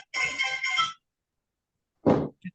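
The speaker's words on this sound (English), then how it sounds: "whoever's phone that is, if you'll turn that phone off, I'd appreciate it" A mobile phone goes off in a Jackson County, Florida courtroom during a first-appearance hearing, a bright electronic ringtone burst lasting about a second, then silence, then another short loud tone and a faint blip.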